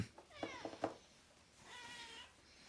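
A cat gives a few short, faint meows close by, followed by a longer drawn-out meow after a brief pause, with no talk.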